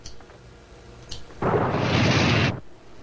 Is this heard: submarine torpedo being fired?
yes